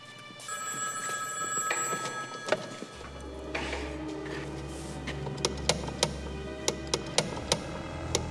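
Old telephone bell ringing in short repeated bursts indoors, loud and close, set against a steady low hum and a faint ticking, with no talking.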